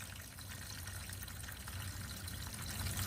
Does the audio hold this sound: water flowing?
yes